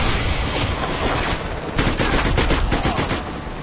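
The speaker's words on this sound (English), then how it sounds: "Still getting shot at." Sustained gunfire from the SpyHunter: Nowhere To Run video game, dense rapid bursts of shots rattling continuously throughout, loud and up close with a heavier flurry in the second half.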